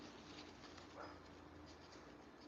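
A dog whimpers and cries faintly in the background of a quiet indoor room. One or two soft, high whines sit barely above the room hiss, with no talking.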